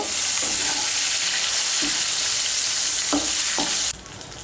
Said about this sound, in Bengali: নুন আর হলুদের গুঁড়োটাকে মিশিয়ে নিয়ে বেগুনটাকে লাল করে ভেজে নেব।